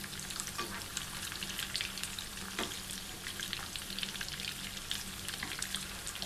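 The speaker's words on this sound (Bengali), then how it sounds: "হাফ কেজি কিমায় আমার 12টা গোলা কাবাব হয়েছে, সবগুলো দিয়ে দিলাম ভাজার জন্য।" Twelve beef gola kebabs made from half a kilo of mince fry in a pan, giving a close, steady crackling sizzle with scattered sharp pops throughout.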